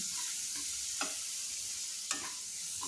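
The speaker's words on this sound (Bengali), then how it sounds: "দেখো মশলাটা ভাজছি" Spice paste frying gently in oil over a low flame, a soft steady sizzle with a couple of brief stirring scrapes, close and quiet with no talking.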